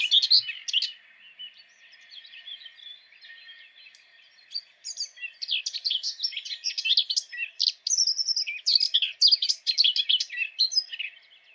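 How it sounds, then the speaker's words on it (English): Short, scratchy bursts of common whitethroat song repeat close by, growing busier and more chattering toward the end. "Whitethroat's song is short and scratchy and sounds a little grouchy"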